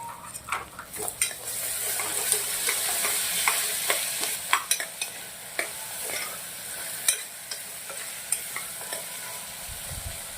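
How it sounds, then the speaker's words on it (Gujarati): Vegetables such as onion and chili sauté with ginger-garlic paste in a pan, giving a steady sizzle and frying hiss with frequent close spoon stirs and scrapes against the metal throughout, no voices. "પાંચ મિનિટ સુધી સંતરાવા દેશું અને હવે આપણે વેજીટેબલ સંતરાઈ ગયા છે"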